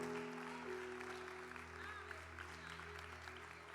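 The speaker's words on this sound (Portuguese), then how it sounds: "Aplaude, aplaude." A church congregation at a women's prophetic service claps along in a steady wash of applause, moderately distant, with a sustained musical drone and faint voices beneath.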